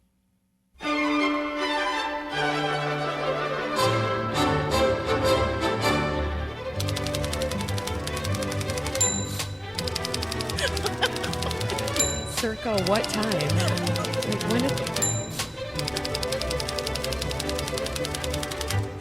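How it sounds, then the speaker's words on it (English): Leroy Anderson's The Typewriter played by strings, with busy orchestral music running throughout and sharp percussive typewriter-like clicks and bell dings punctuating it; a brief spoken question at the start. "the music that we are about to listen to, it's called The Typewriter, and it's by composer Leroy Anderson."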